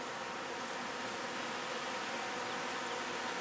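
Bees hovering around flowers outdoors give a steady, close insect buzz, a continuous airy drone that holds level from start to finish with no voices over it.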